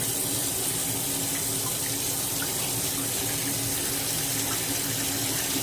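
Rice is rinsed by hand under a running kitchen tap, a steady unbroken hiss and splash of water into the sink that holds a constant level throughout, with no voices.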